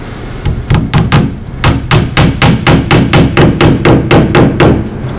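A hammer drives nails into vinyl siding panels during installation, with about a dozen loud, close, evenly spaced strikes in a steady rhythm and no talking.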